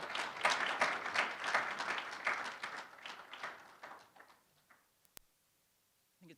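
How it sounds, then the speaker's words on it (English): Audience applause at a college lecture welcoming someone speaker, a dense round of clapping that tapers off over about four seconds into quiet, with a faint knock near the end. "She is somebody to give a warm round of applause to"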